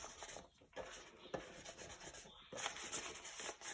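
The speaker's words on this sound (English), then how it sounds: "it does have texture on the back, so we don't want to sand it all off." A small polymer clay button has its textured back lightly sanded, giving short scratchy rubbing strokes with brief pauses between them, close and moderately loud.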